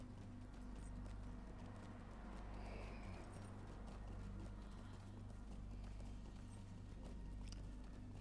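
Horse hooves clip-clop at a quick, steady pace while riding in the online game Lord of the Rings Online, faint and continuous over a low constant hum.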